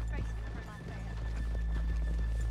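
Horses in Red Dead Redemption 2 clip-clop and whinny close by, with a short neigh at the start and scattered hoof thuds, under people talking.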